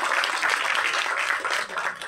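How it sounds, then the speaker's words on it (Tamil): Audience applause at a movie audio launch event, a loud, continuous burst of crowd clapping heard up close for a couple of seconds. "இந்த நேரத்தில் பலத்த கரகோஷம் கொடுங்க."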